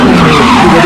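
A truck skids hard, its tires letting out a loud, close squeal in one sustained burst under a broad rushing noise.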